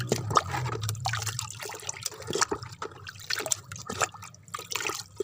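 Banana peel liquid fertilizer being stirred and mixed, giving sloshing, trickling liquid sounds with small splashes and drips, close and moderately loud throughout with no talking.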